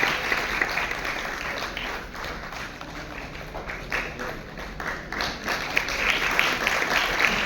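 At an official ceremony in Chandigarh where newly appointed teachers receive appointment letters, the assembled audience applauds with a continuous crowd of clapping hands, rising and falling slightly and swelling toward the end.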